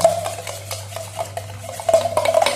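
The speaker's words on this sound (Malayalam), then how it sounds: "ഇളക്കി വെക്കുക കട്ടിയിൽ അങ്ങോട്ട് ഇളക്കി വെക്കുക" Egg rice being stirred in a pan, with close, repeated scraping and clinking strokes of a spoon against the metal, uneven in rhythm and growing busier toward the end.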